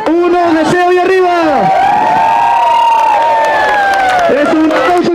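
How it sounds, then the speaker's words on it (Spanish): A crowd of children cheering at a Christmas event with inflatables, face painting and circus shows, a loud burst of high-pitched shouts and whoops that rises, swells and trails off, filling the whole moment. "¡Es un aplauso, chicos!"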